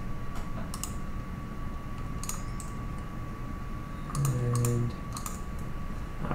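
Mouse and keyboard clicks during a Minecraft session come as rapid light taps in short bursts, close and crisp, over a constant low background hum, with one brief tonal game sound midway.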